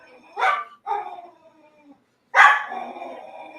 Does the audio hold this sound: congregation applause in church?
no